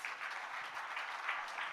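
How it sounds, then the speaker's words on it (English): Faint, distant clapping ripples steadily through a conference hall at an education event in Chennai, thin and subdued throughout. "A little louder applause would be nice."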